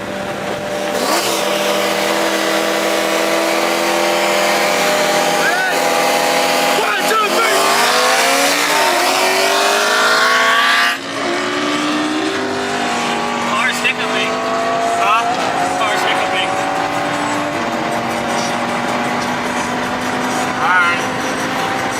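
Turbocharged Trans Am accelerating hard on a street race run, engine revving loud and close, pitch climbing through gear changes with a brief dip midway, while people talk over it.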